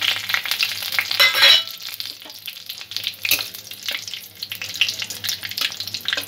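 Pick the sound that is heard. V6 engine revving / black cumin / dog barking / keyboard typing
black cumin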